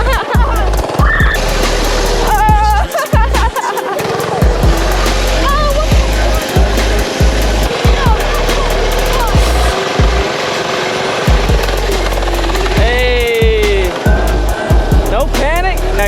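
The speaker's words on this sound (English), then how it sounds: "Yeah, guys, this bike just climbs up the hill, has no problem." A minibike engine climbs a hill on a dirt trail, its motor buzzing loudly and continuously with shifting pitch under wind buffeting and bumps, while people's voices appear briefly.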